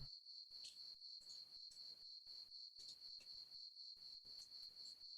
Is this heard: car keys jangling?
no